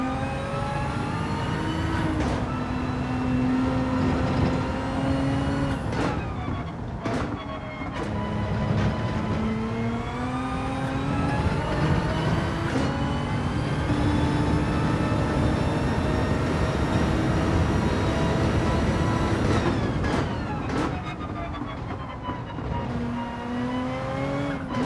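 A 2018 GTR race car in Gran Turismo 7 drives an endurance race, its engine whining steadily and climbing in pitch through the gears, with sharp drops at each upshift, alone and continuous.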